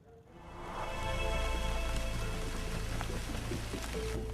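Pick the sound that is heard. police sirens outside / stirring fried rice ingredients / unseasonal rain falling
unseasonal rain falling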